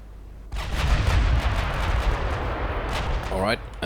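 Naval artillery from warships in Ultimate Admiral Dreadnoughts. A loud, rolling barrage of heavy gunfire opens abruptly and rumbles on without pause, with a brief higher whistling sweep near the end.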